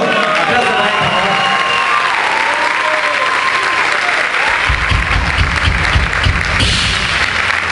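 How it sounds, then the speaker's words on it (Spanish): Concert crowd applauding a band member at a tribute show, steady dense clapping with some cheering, loud and sustained, with a voice and music tones over it. "Aplauso para él."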